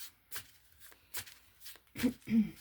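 A deck of playing cards is handled in a few short, sharp riffling and slapping bursts spaced through the moment, getting louder toward the end, with faint voice-like murmurs between them.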